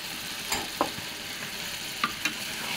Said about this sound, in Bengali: এই যে ভাজা মুরগি মাংসটা দিয়ে দিলাম